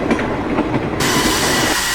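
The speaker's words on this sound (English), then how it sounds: "train." A passing train rumbles loudly and steadily, wheels clattering on the rails in a dense, continuous roar with some hiss, no voices present.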